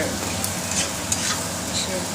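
A spice paste of ground cumin, Kashmiri chili powder and chili paste sizzles and is stirred in hot oil after magur fish has been fried, giving a close, steady crackling hiss with a few light scraping clicks.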